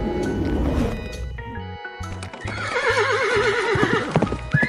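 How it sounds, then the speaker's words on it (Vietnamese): A horse whinnies in a long, quavering neigh, with hooves clip-clopping in a steady rhythm beneath it, close and clear. "Con ngựa."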